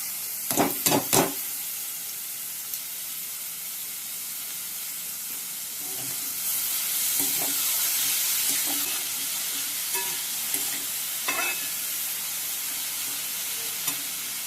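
Chopped colocasia (taro) stems stir-fry in oil in a pan, a few sharp clattering knocks early on, then a steady sizzling hiss that swells midway, with no talking.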